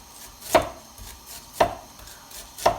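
A kitchen knife chops ginger finely on a cutting board, giving three crisp, evenly spaced knocks close up, about one per second, with quiet pauses between.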